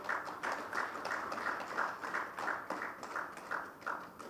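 An audience at a book launch claps in a steady, evenly paced rhythm, with about a dozen distinct group beats that stay moderately loud throughout and have no talking over them.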